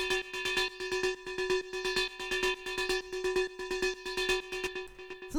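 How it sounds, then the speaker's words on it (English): FM-synthesized rhythmic techno drum loop with a metallic, ringing tone: rapid, evenly pulsing hits over a sustained droning pitch, looping steadily and moderately loud on its own. "The next sound that we have here is this little like rhythmic drum thing."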